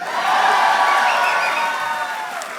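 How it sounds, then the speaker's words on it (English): Graduates at a 2019 commencement ceremony cheer loudly and steadily as a large crowd, with a broad roar of voices and whoops that holds for a couple of seconds and fades slightly. "you should cheer every time you hear class of 2019"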